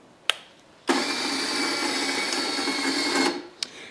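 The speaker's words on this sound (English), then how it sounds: "This is a little jib crane, and it has an electrically operated hoist on it" A small electric hoist on a floor-bolted jib crane rated for 500 pounds starts with a click and runs with a steady, loud motor whine for about two and a half seconds, then stops, and a second click follows.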